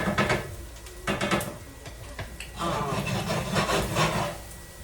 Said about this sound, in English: Stirring that thing up.